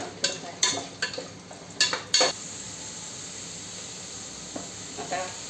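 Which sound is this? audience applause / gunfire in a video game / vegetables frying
vegetables frying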